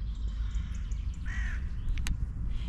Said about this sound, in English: There's a big crow in there.